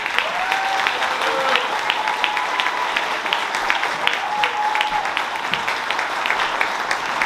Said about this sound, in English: Let's give another round of applause to our Weston Ranch drama team.